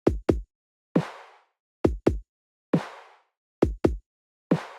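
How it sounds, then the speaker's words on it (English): A filtered drum pattern repeats three times: two quick muffled kicks followed by a softer, airy swishing hit, with silence between the hits. "I've introduced this filtered drum."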